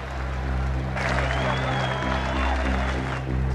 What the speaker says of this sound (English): great applause from the pro-Australian crowd